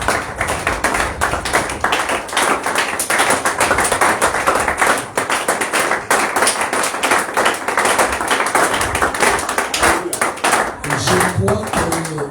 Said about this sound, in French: Acclamons une fois de plus.